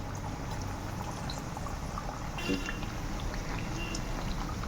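Snacks fry in oil over a medium-low flame, giving off a soft, steady sizzle and hiss with faint bubbling that carries on evenly throughout at low volume.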